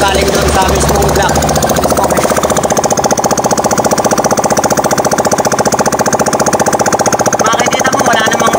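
A Yamaha Mio Soul i motorcycle engine runs with its exhaust pipe removed, giving a loud, steady rapid mechanical chatter that holds throughout, with a voice talking over it at the start.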